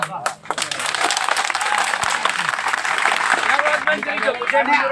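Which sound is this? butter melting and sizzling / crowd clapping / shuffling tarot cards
crowd clapping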